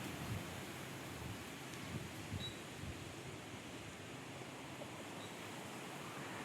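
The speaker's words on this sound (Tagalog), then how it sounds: "Ang lakas po ng hangin." Steady, broad rushing noise with low buffeting rumbles, like strong wind blowing against the microphone, continuous throughout with no voices.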